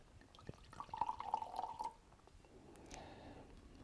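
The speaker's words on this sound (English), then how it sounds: "let me pour a little bit of the Hudson Harmony for you guys" Hudson Harmony red wine is poured into a glass at a vineyard tasting, giving a soft, brief trickle and gurgle that tapers off, with no talking.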